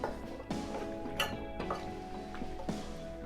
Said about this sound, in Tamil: இப்படி நல்லா கிண்டி விட்டுக்கணும்பா